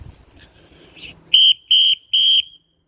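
Three short, shrill whistle blasts in quick succession, loud and close, following some quiet rustling and handling noise.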